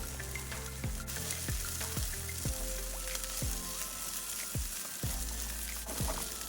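Green beans and yellow squash fry in a pan with a steady, fairly quiet sizzle. Regular low thumps recur about every half second, likely a utensil tapping or stirring.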